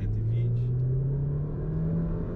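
A RAM Rampage pickup accelerates in RT mode, its engine drone rising steadily in pitch over a constant loud cabin rumble, heard from inside the vehicle.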